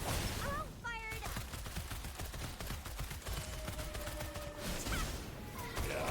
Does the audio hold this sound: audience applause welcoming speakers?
no